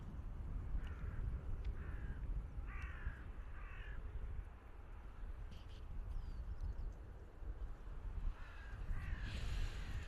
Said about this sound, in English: So much bird life hanging around the airport this morning.